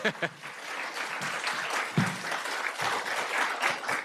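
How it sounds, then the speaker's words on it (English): A school district audience breaks into sustained, lively applause with scattered cheers at a State of the District event, steady and fairly close throughout. "Round of applause, guys."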